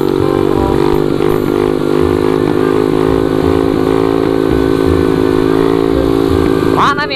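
A minibike motorcycle engine in a street race holds a loud, steady, buzzing drone right up close, with a sharp rev rising near the end while people talk over it.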